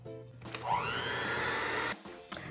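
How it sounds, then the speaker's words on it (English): A hand mixer starts up and runs steadily with a whirring motor hum as it beats pudding mix into a bowl of milk, then cuts off and briefly restarts. "I am using a hand mixer to mix the pudding"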